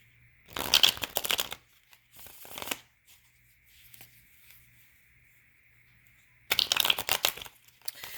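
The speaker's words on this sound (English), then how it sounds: "let me shuffle one more time" Tarot cards are shuffled close up in quick riffling bursts, a short pause between them, then another brisk shuffle after a quiet stretch.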